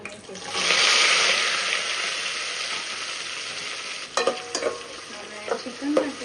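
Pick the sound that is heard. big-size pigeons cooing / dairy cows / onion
onion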